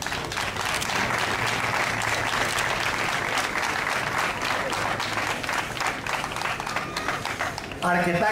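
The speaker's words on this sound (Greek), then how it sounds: "Αρκετά χειροκροτήματα εισέπραξε και ο Λυκούργος και ο Γιώργος." Audience applause at a Greek ceremony held by a local community group, steady dense clapping filling the whole stretch, loud and close, with a brief voice near the end.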